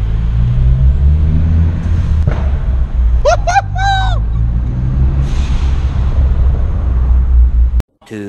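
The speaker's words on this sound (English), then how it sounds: "Car sounds amazing with the Resonator delete." A loud, deep exhaust drone from a Ford Focus ST with a Karter Performance cat-back and resonator delete rumbles steadily, with a few brief high squeals partway through before it abruptly cuts off near the end.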